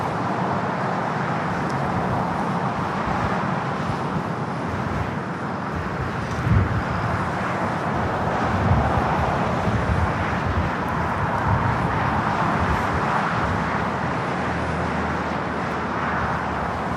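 An American Airlines Boeing 777-200ER landing at LAX, a broad continuous engine rumble and whoosh heard from a distance, steady throughout with no talk.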